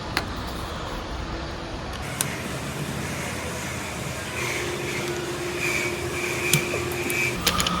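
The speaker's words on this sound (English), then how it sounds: "This is the laser cut machine" A laser cutting machine runs steadily in a toy factory cutting puzzle shapes, with a continuous mechanical whir and hum, a few brief clicks and a faint tone shifting partway through. Nobody speaks.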